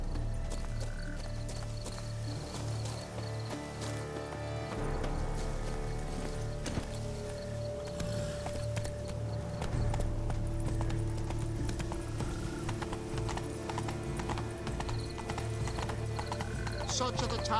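Horse hooves clip-clopping at a steady trot in The Witcher 3: Wild Hunt, Blood and Wine, a continuous rhythmic clatter over a humming ambient music bed with a brief whinny.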